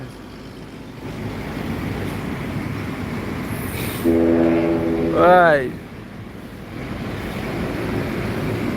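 A ship's deep horn sounds for about a second and a half over steady engine rumble and wind, then bends upward. A voice calls out briefly.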